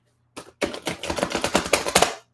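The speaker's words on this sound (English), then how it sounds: "I want to shuffle my cards well here" Tarot cards shuffled close up, a rapid burst of crisp flicking and riffling snaps lasting nearly two seconds after a brief opening rustle, loud and alone without any talk.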